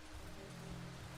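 Quiet, steady patter of rain on surfaces in the video game Darkwood, a soft continuous wash with a low hum underneath and no speech.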